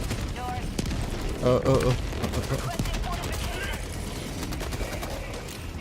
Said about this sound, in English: Definitely a lot of explosions there